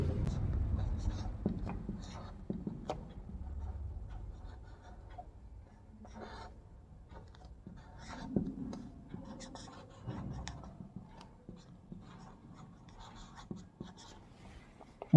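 Pen scratching Urdu letters by hand on paper, soft intermittent strokes and taps with pauses between, quiet and close, with occasional faint talk.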